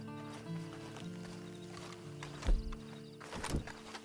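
A horse in Red Dead Redemption 2 Online gives a few hoof thuds and a short snort or whinny against a quiet backdrop with a soft musical drone.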